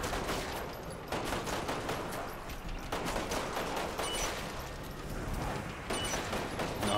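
Rapid gunfire in the Umbrella Corps game, dense crackling bursts that continue without pause at a loud, even level throughout.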